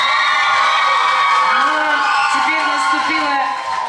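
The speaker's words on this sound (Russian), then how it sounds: "А второй отряд прямо взрывается от аплодисмента." A children's camp group in a hall erupts in loud cheering, whoops and shouts, a dense continuous crowd roar of young voices that stays strong throughout and eases slightly at the end.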